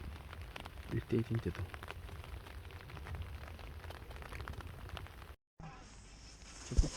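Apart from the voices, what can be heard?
rain falling at night fishing spot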